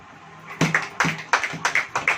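A church congregation breaks into clapping, producing a run of sharp, loud, close hand claps in a loose rhythm, about eight distinct strikes following a quiet start.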